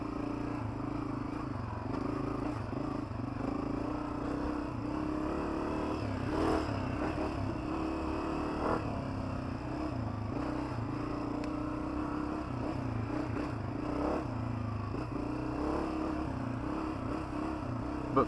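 A Honda CRF250f dirt bike rides tight woodland single track, its engine droning steadily in a low gear with small rises and dips, close and continuous with light clatter.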